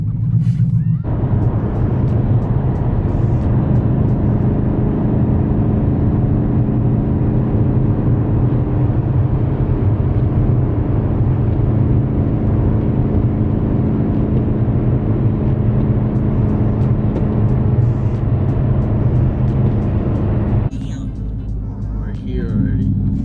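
A Ford Mustang 5.0 on the way to a car meet gives a steady, loud engine drone and road rumble from inside the car, holding evenly for about twenty seconds before easing off near the end.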